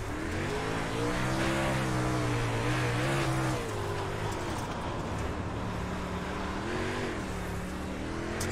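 Dirt race car engine in the iRacing game at Lincoln track, droning and revving loudly with rising and falling pitch as the throttle is worked, plus some tire and road noise, steady throughout.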